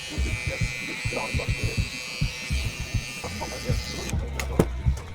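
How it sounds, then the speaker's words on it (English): An electric hair trimmer buzzes steadily while a guideline is set during a mid taper haircut, with a clipping texture of repeated short strokes close up. "Now we're going to get our trimmer and set in our guideline."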